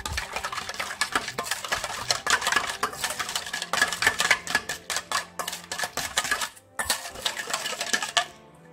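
A utensil stirs yeast, sugar and water in a bowl for a salty Varaždin rolls dough, making rapid, close clinks and scrapes in an irregular rhythm that stop briefly before a final flurry. No one speaks.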